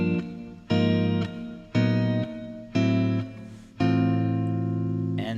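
Guitar chords strummed one after another in a progression using sharp-eleven substitution voicings, five ringing chords with steady decays, played alone without talk.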